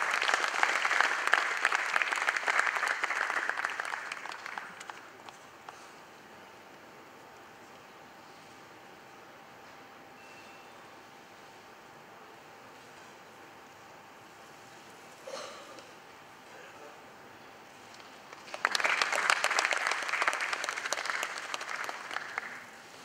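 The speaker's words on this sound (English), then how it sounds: "let's have a round of applause, please" Applause from the audience at an IT awards ceremony comes in two bursts: a loud round of clapping that fades over the first few seconds, a long quiet stretch, then another strong round near the end.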